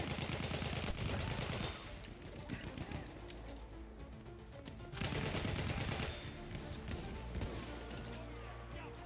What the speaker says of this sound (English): Machine gun, look alive!